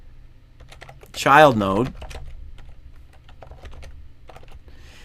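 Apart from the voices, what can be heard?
typing on a computer keyboard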